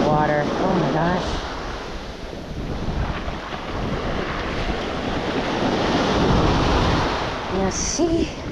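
Ocean surf washes up and pulls back along the beach at Manasota Key in a steady, rushing wash with wind noise. A voice speaks briefly at the start and again near the end.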